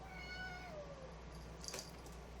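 A pet cat lets out one drawn-out, falling meow close by indoors, followed by a brief light clatter, with no talking.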